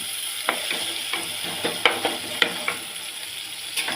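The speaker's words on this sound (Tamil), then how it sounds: "தக்காளி இந்தளவுக்கு வதங்கிடுச்சு" Tomatoes with turmeric sizzle and sputter in a hot pan for a mackerel curry, with a steady frying hiss and occasional soft stirring scrapes and pops, close and without voices.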